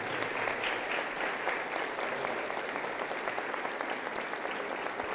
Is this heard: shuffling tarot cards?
no